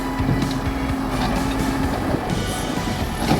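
A tractor engine strains steadily while dragging a heavy boulder during septic system digging, a continuous low rumble with a droning hum, loud and close, with wind buffeting the microphone throughout.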